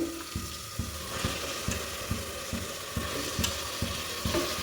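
Mutton frying in tempering with fried onions in a pan, a low sizzle punctuated by regular scraping strokes of a spatula stirring, roughly two per second, close and steady.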